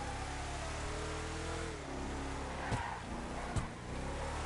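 A fast truck in GTA 5 drives with a continuous engine drone that shifts pitch partway through, marked by a couple of sharp thumps, with no talking.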